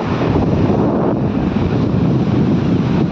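Sea waves and wind at Suvali beach in Surat in the evening, a steady, loud broadband roar of surf with wind buffeting the microphone continuously and no voices.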